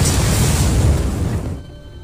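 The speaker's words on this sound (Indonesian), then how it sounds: "Tapi di saat yang sama, alat pemicu itu bekerja dan ledakan pun terjadi." A loud, close explosion in a film roars as one dense blast that rumbles for over a second, then fades into a thinner decaying tail.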